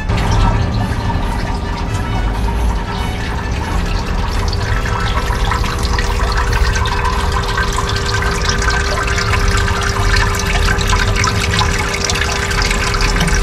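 Steady, loud rush of running water pouring continuously while gold-bearing material is washed outdoors, an even, unbroken flow with faint dripping and splashing and no talking.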